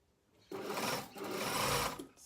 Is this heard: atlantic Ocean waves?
no